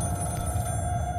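A telephone rings steadily and fairly loudly in the horror video game Scream: The Game, a continuous electronic bell tone with no talking.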